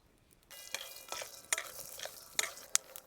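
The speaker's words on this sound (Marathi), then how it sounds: "कढई गरम झाली शेंगदाणे भाजून घ्यायचे आपल्याला थोडस तेल टाकून घ्यायचे शेंगदाणे भाजायला" Peanuts roast in a little oil in a hot wok. A spatula stirs and scrapes them in repeated, fairly close strokes over a light sizzle, with no talking.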